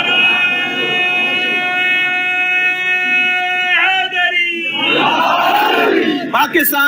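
A large gathering chants salawat in unison, a loud, sustained and tonal collective voice that holds steady and then shifts into a rougher, swelling crowd roar.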